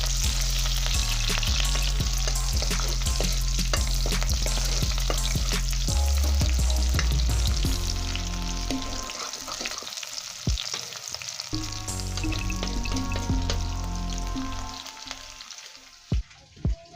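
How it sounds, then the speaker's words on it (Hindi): Chopped onion sizzles steadily in a hot pan for cowpea bean and potato sabji, with scraping stirs scattered through and the frying settling quieter toward the end. "प्याज को भी डाल देते हैं। थोड़ा इसको चलाते हैं।"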